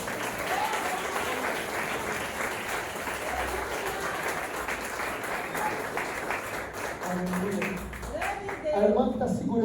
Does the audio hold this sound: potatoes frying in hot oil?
no